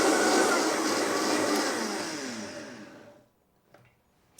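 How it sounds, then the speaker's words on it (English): A blender purees vegetables, herbs and water with a loud whirring motor roar that slowly winds down to silence, followed by a couple of faint clicks and knocks. "we're going to turn our blender on and we're going to puree this up"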